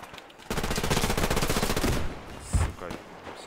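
A machine gun fires a fast sustained burst in a team battle in Survarium, version 0.31b, on the Mamaev Kurgan map, followed by a single louder shot and scattered faint pops.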